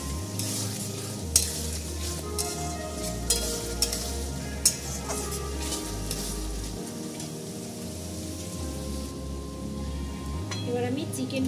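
Chilli chicken masala with sauce and a spoon of sugar being sautéed in a pan: continuous close sizzling with frequent spatula scrapes and knocks against the pan, a low hum of music underneath.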